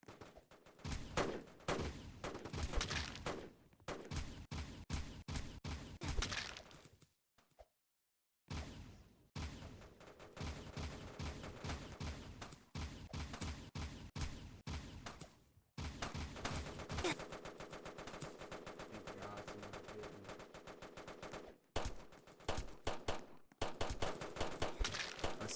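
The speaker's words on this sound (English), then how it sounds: "A semi-auto pistol is crazy." Rapid semi-automatic pistol fire in a shooting video game, dense bursts of close, loud shots running almost continuously with a brief pause partway through.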